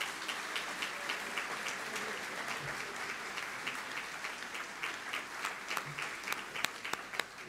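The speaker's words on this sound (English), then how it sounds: "Let's give them a round of applause" A large audience claps steadily at a school graduation ceremony, a dense, even round of applause heard from a distance with a few sharper individual claps standing out.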